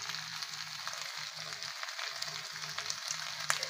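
Pieces of Labeo calbasu fish fry with chopped onion in hot oil, giving a soft, steady sizzle close by, with a low hum pulsing underneath and no talk.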